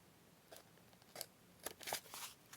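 Scissors trimming paper for a junk journal collage, several soft snipping cuts spaced apart, then a quick cluster near the end, faint and close with no voice.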